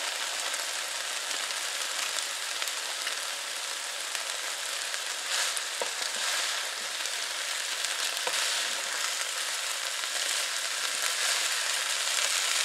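Shredded cabbage and carrot coleslaw mix sizzles in a hot pan for an egg roll in a bowl, a loud, steady crackling fry with a few brief clicks of stirring near the middle.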